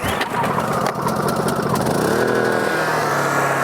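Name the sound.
gas-powered engine starting with pull cord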